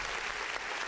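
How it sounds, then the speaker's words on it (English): Round of applause from a small group, a steady clatter of clapping over a short burst without any talk. "round of applause for Brian Broaddus."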